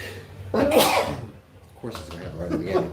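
One sharp, close sneeze from a person bursts out abruptly, then someone speaks over a quiet room.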